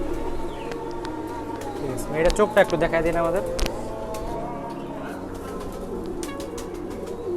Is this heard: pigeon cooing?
yes